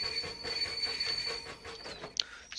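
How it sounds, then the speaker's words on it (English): Four-wheel railway wagons rolling on track in a Devon and Cornwall railway setting, faint rhythmic clicking with a thin high squeal running through, ending in a brief sharp screech. "Wagon sounds are from the AP four wheel wagon pack."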